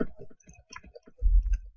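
Quick taps on a computer keyboard set to Urdu input click in a short, irregular burst, close and fairly soft, with a duller thump near the end.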